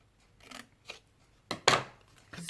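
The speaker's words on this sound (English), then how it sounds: "cut that bit off," Scissors snip through paper for a collage, a few soft scattered cuts building to a louder crisp rustling snip near the end, close and without talk.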